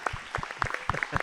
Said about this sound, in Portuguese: Palmas para eles, obrigado.